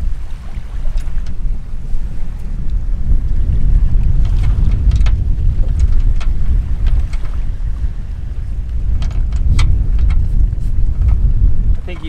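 Steady wind roars over a small dinghy on open water, a loud broadband rush with low buffeting from the microphone and faint water slaps, no talk.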